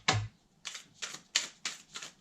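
A thick tarot card deck being shuffled by hand, heard as five quick papery bursts at an uneven rhythm with quiet gaps between them, close and fairly soft.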